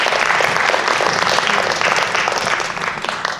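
Loud, dense applause from an audience at a student research presentation event, steady and sustained throughout.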